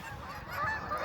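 A large flock of geese on the water gives a short burst of overlapping honks, faint and a little distant.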